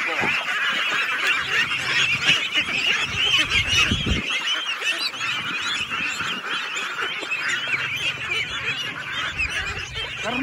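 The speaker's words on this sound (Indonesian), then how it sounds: "bagaimana bebek-bebek ini dengan lahap mengkonsumsi daripada azolla" A flock of ducks eagerly eats azolla, a dense, continuous chorus of loud honking quacks and chatter close by, with splashing and dabbling sounds underneath.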